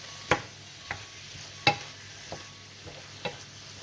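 A spoon stirring lentils in a pan while they sizzle softly, with a handful of sharp scraping clicks spaced out over a quiet, steady frying hiss; no talking.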